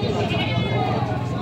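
Goats for sale at a livestock market bleat in a dense, wavering chorus close by, mixed with crowd noise and people talking.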